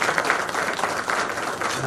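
A short burst of steady audience clapping at a poetry gathering, sustained and fairly close, with no other sound standing out.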